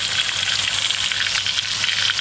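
Turmeric-coated fried chicken sizzling steadily in hot oil, a loud, close, continuous hiss and crackle with no pauses and no speech.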